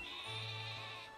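A sheep Pokémon bleats in Pokémon Sword and Shield, a single sustained, nasal, wavering cry lasting about a second, clear and alone.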